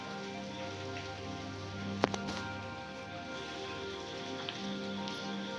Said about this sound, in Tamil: இப்போ வெங்காயம் நல்லா கால்வாசி அளவுக்கு நல்லா வதங்கிக்கட்டும்